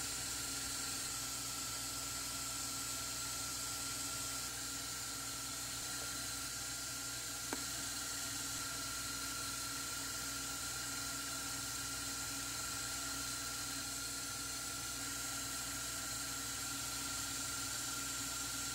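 An electric mixer whips wet ingredients for a keto banana cake, a steady high whirring drone that runs unbroken and fairly loud from start to finish.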